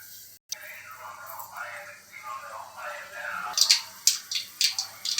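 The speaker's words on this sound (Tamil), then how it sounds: "கடுகு வெடிக்குது" Mustard seeds spluttering in hot oil while tempering a spicy turkey berry (sundakkai) kuzhambu: a quiet stretch with a voice talking, then a run of sharp, irregular pops and crackles close by.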